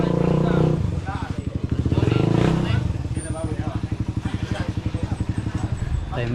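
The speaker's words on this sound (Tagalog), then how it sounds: "Tayo may mga motor dito na papasok, naghahatid pa baba" Motorcycles idling and revving close by on a road in Cebu, a steady mid-pitched engine drone with rapid pulsing beats rising and falling, with faint voices in the background.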